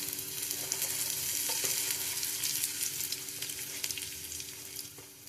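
Coriander, mustard seeds, pepper and cumin dry roasting in a pan, a dense close crackle and hiss with small pops and light stirring scrapes, steady throughout with no talking.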